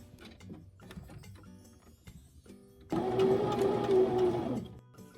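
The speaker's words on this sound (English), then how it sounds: "This is just a montage of me sewing the sides of the back skirt together." Sewing machine stitching together the side seams of a prom dress's back skirt panels, a steady loud whirring run that starts abruptly and holds for a couple of seconds before stopping, after quieter handling clicks.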